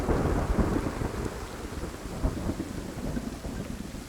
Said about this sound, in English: tropical storms that never seem to stop